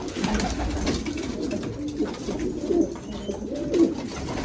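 Pigeons coo softly and repeatedly close by, low throaty calls over a background of rustling and shuffling noise.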